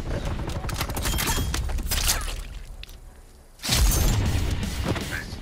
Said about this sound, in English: Molotov going out.